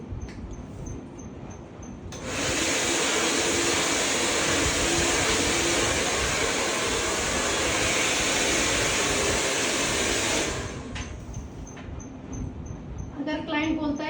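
A blow dryer drying hair in a salon roars on loudly for about eight seconds, then cuts off, with quieter room noise before and after.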